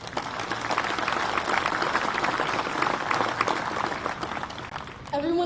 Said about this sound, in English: Everyone, please give a round of applause for our families who have supported us the whole way and made sure that they could be here